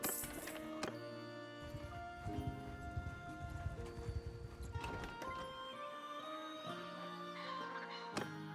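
Rhythmic horse hoofbeats in the video game Mount and Blade 2: Bannerlord clop along beneath layered game music and tones, steady and moderately close.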